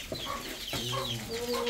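Chickens clucking nearby in a yard, a run of short steady clucks over a constant outdoor background hiss during a storm rescue.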